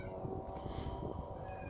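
A cat meows faintly in a drawn-out cry over a steady background hum, heard alone with no talking.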